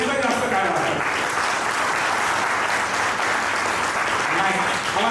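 A hall full of listeners at a lecture camp gives Ravi Sonawane loud, sustained applause. The dense clapping runs throughout, and a speaker's amplified voice is faintly heard at the start and end.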